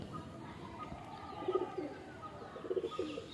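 Soft, low cooing from a breeding pair of pigeons comes in two brief phrases over a faint background, fairly quiet and close by.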